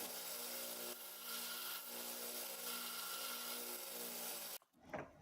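A bone and antler knife handle is sanded with a power tool, a steady, close abrasive whine and rub that runs for several seconds and then cuts off abruptly.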